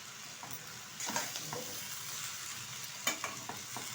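Ash gourd greens with prawns stirring and frying in a pan, a soft steady sizzle broken by scraping strokes of a spoon and a few sharper clinks near the end.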